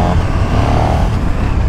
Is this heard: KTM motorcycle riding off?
yes